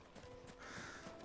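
Crows cawing in the video game Final Fantasy 16, a few harsh caws mixed with faint clip-clop, soft and somewhat distant against a quiet background.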